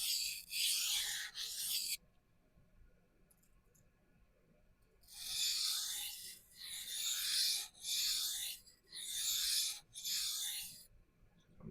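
A knife edge is stroked with light pressure across a whetstone to remove the burr, producing several long, smooth rasping passes separated by short pauses, close and moderately loud.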